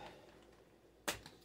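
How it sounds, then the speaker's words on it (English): A single sharp snip close up as scissors cut rubber bands off a tie-dyed T-shirt, followed by a faint second click, in an otherwise quiet room. "Cut these rubber bands."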